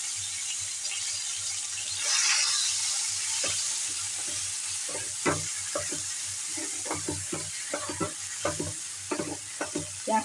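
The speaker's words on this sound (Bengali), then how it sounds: "পেঁয়াজটাকে ভালো করে লাল করে নেব।" Ground onion paste fries in hot oil in a wok with cumin, whole spices, bay leaf and chilli, a steady close sizzle broken by repeated scraping and stirring clatters that grow more frequent.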